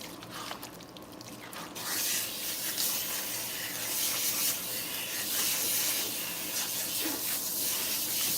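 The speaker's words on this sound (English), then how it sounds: "I gotta rinse again, okay?" Tap water running steadily while hair is rinsed, a broad hissing spray that thickens after the first two seconds and stays constant, with no talking.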